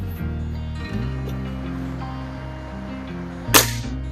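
A single sharp crack from a BSA Meteor Super .177 air rifle near the end, standing out over a steady low background hum.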